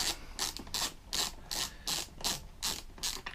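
A ratchet tool clicks in quick, even bursts while a small bolt is worked out of a two-stroke petrol generator. The close, metallic ratcheting repeats through the moment with no speech.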